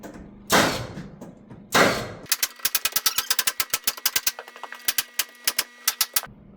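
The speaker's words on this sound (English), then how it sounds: "All I got to do now is I'm just going to shoot off the top." A nail gun drives nails into wood while a pocket door kit is built: two loud pneumatic bursts, then a rapid, fairly even string of sharp close-up clacks and knocks.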